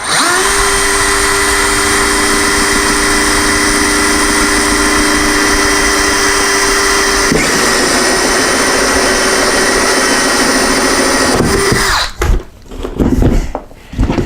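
A loud, steady power drill whines while a hole saw grinds a hole for DIY LED aquarium lighting for about eleven seconds, then cuts out, leaving brief clattering and handling noises.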